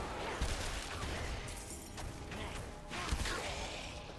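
Bursts of explosions from the action game Diablo 4, a steady cluttered rumble with several sharper blasts standing out, at moderate level with no talk over them.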